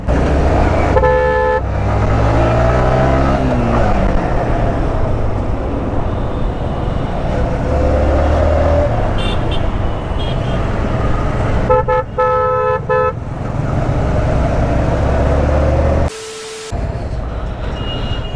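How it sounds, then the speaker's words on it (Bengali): Dense Bangladeshi traffic jam heard from an R15 motorcycle, with repeated car and vehicle horns honking in short bursts over a constant engine and road rumble. "মানে বাংলাদেশ মানে হলো ট্রাফিক, বাংলাদেশ মানে হলো জ্যাম।"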